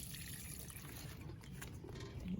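Water mixed with plant fertilizer poured from a container onto garden plants, a steady gentle trickle and splash running continuously at moderate level with no voices.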